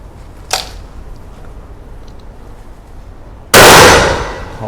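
Huglu 301B single-barrel break-action shotgun firing outdoors: a faint sharp crack early on, then one loud close blast with a long decaying roar, over a quiet background.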